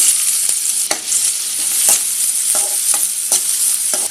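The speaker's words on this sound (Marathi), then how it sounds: "तेल तापलं आहे. कांदा घालूया" Chopped onion hitting hot oil in a pan for a Malvani-style padwal bhaji, a loud bright sizzle with repeated scraping stirs at roughly half-second intervals, close up and alone.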